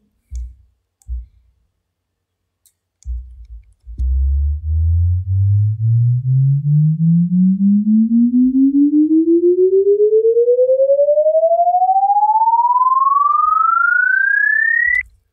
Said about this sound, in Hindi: ये कौन इंसान आ गया जो बीच में वॉल्यूम बंद करता जा रहा है टों टों टों टों वो क्या हो रही है मेरी कॉम्ब फिल्टरिंग